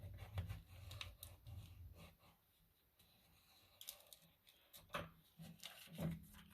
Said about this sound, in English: I'm going to fold it both ways, just so that makes it where it wants to move better in our book